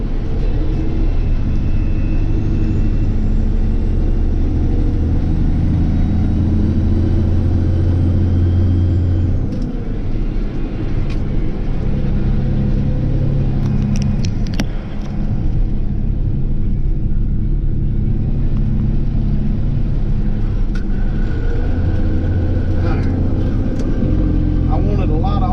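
A Peterbilt 359 truck with a 15-speed transmission labors on a narrow, twisting road. Its engine rumbles loud and steady throughout, and the low drone shifts pitch partway through as the throttle opens and the gear drops.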